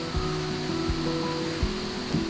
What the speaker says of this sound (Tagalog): At naririnig mo yung lagaslas ng tubig.